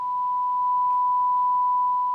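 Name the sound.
1 kHz test tone through Denon DRA-350 receiver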